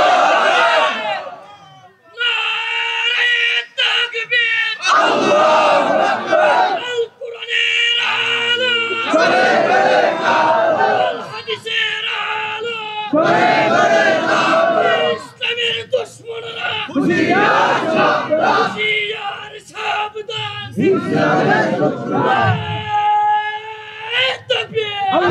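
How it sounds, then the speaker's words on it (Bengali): A crowd at an Islamic religious gathering in Bangladesh shouts the takbir chant in loud bursts that alternate with a preacher's amplified voice leading them. "আপনারা একটা তাকবীর দেন জোরে দেন।"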